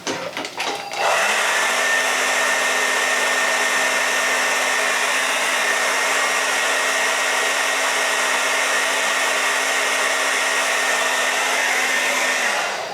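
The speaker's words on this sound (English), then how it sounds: "hit that with a hairdryer a little bit to take a little bit of the moisture to set that" A hairdryer runs steadily for about thirteen seconds after a brief startup, its close, constant whine blowing over a beard to dry out moisture and set it, with no talking.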